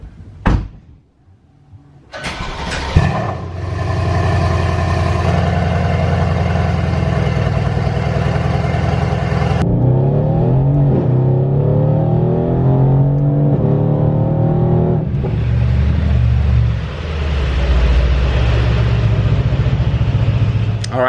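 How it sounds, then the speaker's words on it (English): A Mercedes-Benz car starts with a sharp door-like thud, then its engine revs loudly and roars away, pitch rising and shifting through gears, close and steady with no talk. "So I have to take the Benz out real quick."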